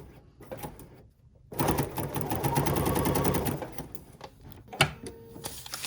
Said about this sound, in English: stitch right on the line